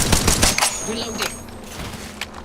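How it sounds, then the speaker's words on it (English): Gunfire in the Apex Legends video game, with rapid shots striking the player, a dense burst of loud cracks at the start that then trails off under background game sound. "Shots fired and they're hitting me."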